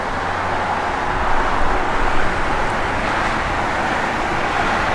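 A 1986 Ford Mustang GT with a 5.0 HO fuel-injected V8 drives along, heard as steady road and engine noise from inside or near the car with a broad rushing hum.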